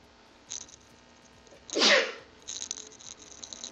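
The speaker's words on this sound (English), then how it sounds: "I need to sneeze." A single sharp sneeze bursts out in a quiet room, preceded by a brief intake of breath and followed by faint rustling.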